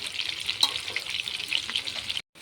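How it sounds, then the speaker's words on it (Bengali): Potatoes frying in oil in a wok until reddish-brown, giving a steady, bright hiss of sizzling oil that runs evenly and then cuts off abruptly near the end. "এখন আলুটাকে দিয়ে ভালো করে লাল লাল হওয়া পর্যন্ত ভেজে নিতে হবে"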